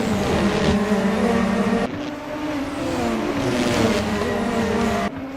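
Race cars roaring around the Autopolis circuit in a Formula Hololive racing video game: a loud, continuous engine drone with shifting pitch and brief gear-change drops, with no talking.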